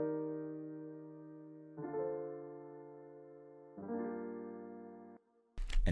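Three sustained chords on a keyboard, each held about two seconds, forming a slow, mellow R&B 6-5-1 progression with minor seventh colour, cut off by a brief noisy burst.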